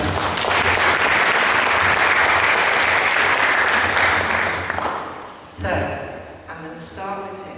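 Lecture audience gives a loud, sustained round of applause for two volunteers, dense clapping for about five seconds before fading out, followed by a speaking voice.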